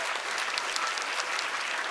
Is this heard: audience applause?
yes